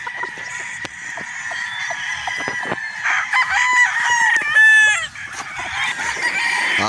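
A Boston Sweater gamecock rooster crows at a Batangas game farm, several rising calls ringing out close and loud over a constant backdrop of other birds clucking and crowing.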